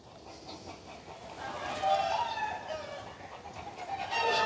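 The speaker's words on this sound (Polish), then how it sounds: "O, kury już dały sygnał." Hens cluck in agitated, rising alarm calls at a nearby predator, growing louder and more insistent over a constant outdoor background.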